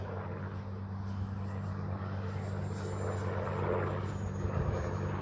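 A FlyFans L-39 radio-controlled jet plane in Black Diamond livery flies overhead, giving a continuous, steady whining drone with a low humming undertone that stays fairly even throughout.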